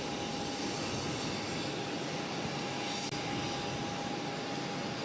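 A jet airliner takes off from runway 22 right at Boston Logan, producing a steady, heavy engine roar that holds at constant loudness throughout, with a faint thin whine riding above it.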